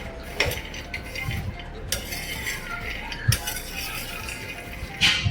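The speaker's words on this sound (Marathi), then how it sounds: "शेंगदाणे खरपूस भाजून घ्यायचे आहे" Peanuts dry-roasting in a pan, with scattered clicks and light scraping of a utensil against the metal as the nuts are stirred, close by and fairly quiet with no talk.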